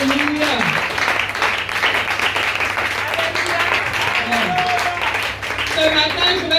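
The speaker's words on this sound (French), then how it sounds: "Est-ce que tu peux acclamer très fort le Seigneur?" A church congregation applauds and cheers loudly and continuously, with clapping filling the space while a voice rises over the crowd.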